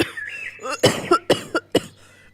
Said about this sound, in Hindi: कबूतर जैसे ही टूटी से पानी डालकर पीता है वो खांसने लगता है।